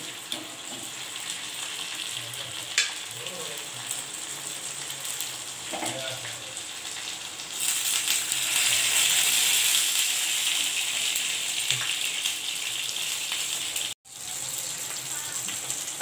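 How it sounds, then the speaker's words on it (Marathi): Water poured into a hot spice tempering of chillies for khaman dhokla makes a sudden loud hiss and gushing sizzle partway through, after quieter kitchen clatter, then settles into steady bubbling. "आता हे थोडं आपण ह्या फोडणीमध्ये पाणी टाकूया"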